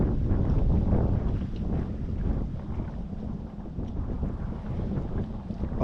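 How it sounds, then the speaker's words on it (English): A northeastern wind gusting over open water around a small budget plastic boat, roaring and buffeting the microphone in loud, uneven surges with low rumble throughout. "we're facing 10-mile-per-hour wind with a wind gust of 32 miles per hour"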